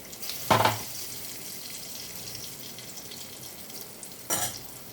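Whole spices temper in hot oil for a dish of bottle gourd greens with green chilli and poppy seed paste, giving a soft, steady sizzle. Two brief utensil clanks break in near the start and end.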